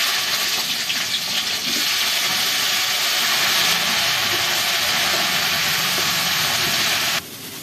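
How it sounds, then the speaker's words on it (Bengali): Cauliflower frying in oil reused from frying fish, a dense continuous hiss and sizzle that holds steady, then drops sharply quieter near the end. "ওই তেলে আমি ফুলকপিগুলোকে ভেজে নেব।"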